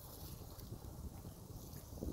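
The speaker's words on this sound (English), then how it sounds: "The wind is starting to come in from that away." Wind gusts across a forest campsite in the Angeles National Forest, giving a low, steady rumble with microphone buffeting, faint and unbroken for a couple of seconds with no talk.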